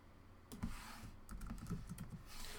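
Quiet typing on a computer keyboard, a short run of soft, irregular key clicks close by with no voices.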